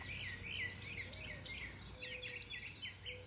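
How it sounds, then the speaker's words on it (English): A cardinal calls outdoors on a morning at Pawleys Island, giving repeated bright, whistled chirps in a steady series against a soft background hum, with no talking. "Look at the Redbird. The beautiful cardinal."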